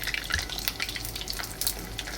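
Dried chillies frying in oil for a garlic pickle, a steady crackling sizzle with soft bubbling and occasional stirring pops throughout.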